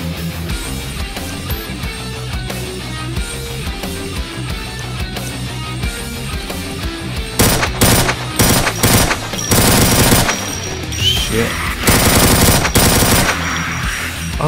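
A minigun in Doom Project Brutality fires long, loud, rapid rattling bursts over pounding game music, the stream of shots starting partway through and continuing in heavy sustained volleys.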